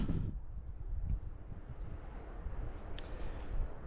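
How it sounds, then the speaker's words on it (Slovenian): Wind blows on a winter mountain hike up to Sveti Primož above Kamnik, a soft, low buffeting rumble against the microphone with gusty rustling that carries on and no one speaking. "Še piha lepo."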